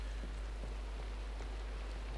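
Rain falls in a multiplayer video game, pattering inside a house: a dense, steady hiss of drops over a constant low hum, loud and continuous, with no speech.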